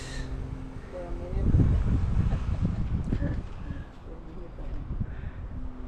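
Strong gusty wind of roughly 20 to 30 miles per hour roars steadily across the microphone with deep rumbling buffets, swelling in the middle before easing, and a voice is faintly present underneath.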